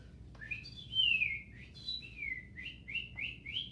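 A person whistles a series of clear, sliding bird calls imitating a cardinal, repeating short descending and rising notes over a faint background hum.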